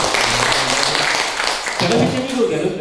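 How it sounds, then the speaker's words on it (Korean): Audience applause after a poetry reading at a talk on therapeutic farming and houseplants, clapping mixed with a speaking voice that comes in over the latter part. "박수 한번 주세요."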